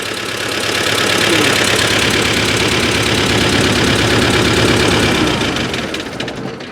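A Ukrainian T-40AM tractor engine idles steadily after repair, a loud continuous diesel rumble with a rapid knocking pulse that holds even for about five seconds before fading slightly at the end; no one speaks.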